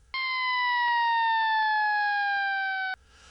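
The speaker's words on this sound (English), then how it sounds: "the sound of sirens pierces the night." A single loud siren tone, steady and close, sounding for about three seconds before cutting off abruptly.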